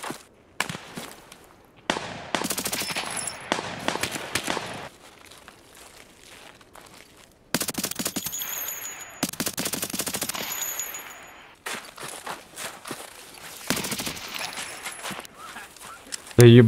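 Bursts of automatic gunfire from a video game rattle in several long volleys separated by brief pauses, loud and sustained, with a few quieter single shots in between.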